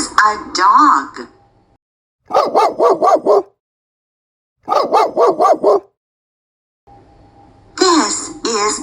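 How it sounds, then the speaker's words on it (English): A dog barks in two quick bursts of four or five sharp barks each, loud and close, with quieter sounds at the start and end. "This is a dog."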